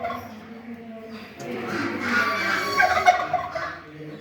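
Chickens call and cluck nearby during a veterinary college demonstration, a few warbling bird calls mixed with people talking close by.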